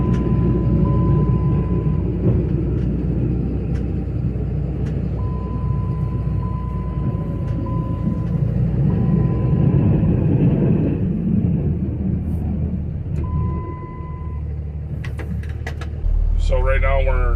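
A truck fitted with a 48RE transmission and a reverse manual valve body plows snow, its engine giving a steady low rumble throughout, with a brief shift in tone near the end.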